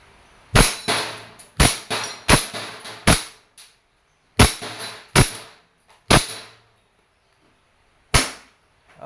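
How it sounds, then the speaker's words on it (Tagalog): An E&C Glock 17 Gen 5 airsoft gas blowback pistol fires about a dozen sharp, close, loud cracks in irregular clusters, with short pauses between groups and a longer gap before the last shot. "Gas blowback pistol."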